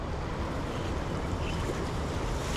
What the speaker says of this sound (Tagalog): Malakas kasi ang agos nun eh.